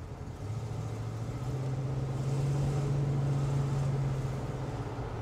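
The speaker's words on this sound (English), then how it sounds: "the engine sound is so" A deep, steady V8 engine of a 1971 Buick Riviera boattail burbles at idle, a low throaty rumble holding constant for several seconds against faint background noise.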